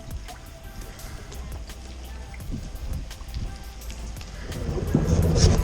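Rain patters steadily on a surface outdoors during a chilly fall fishing trip by a railroad bridge, a soft constant hiss that slowly builds louder toward the end with no talking.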